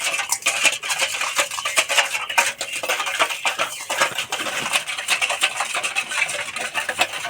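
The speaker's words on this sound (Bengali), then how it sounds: "এইভাবে একটু সময় ধরে ভালো করে মেশাতে হবে।" Spoon stirring a yogurt and semolina biscuit batter in a bowl, with continuous close scraping and clinking strokes at a steady, busy rhythm and no talking.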